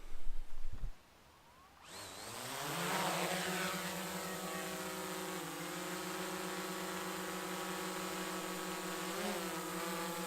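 A drone lifting off and hovering above a castle and river in Wales: a sharp click and rustle, then a high buzzing propeller whine that starts suddenly and holds steady and loud.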